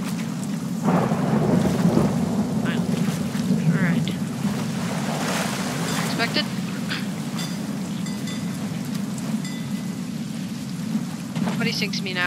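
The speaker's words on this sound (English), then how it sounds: "this is the worst storm I've seen in my entire time" A heavy storm at sea in the video game Sea of Thieves, with a steady roar of rain and wind, rolling thunder swelling throughout, and a voice talking briefly over it.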